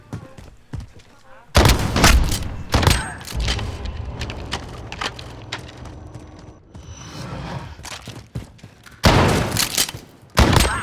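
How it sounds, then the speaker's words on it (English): Model 680 shotgun firing in Call of Duty: Modern Warfare gameplay, loud close blasts spaced several seconds apart with mechanical reload clatter between them. "Here we have the Model 680. As a shotgun, it's okay."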